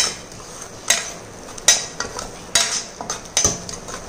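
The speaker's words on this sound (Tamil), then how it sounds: "இப்போ அதை நல்லா கிளறி விடும்" A spoon scrapes and clinks against a pan while a fenugreek-cumin paste is stirred for Madurai ayira fish curry, about six sharp, close strokes at an uneven rhythm.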